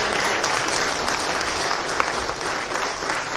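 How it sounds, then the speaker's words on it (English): A crowd at a Mother's Day prize-giving gives a round of applause, a steady, fairly loud wash of many hands clapping together without a break. "Let's give Sandy's daughter a good round of applause."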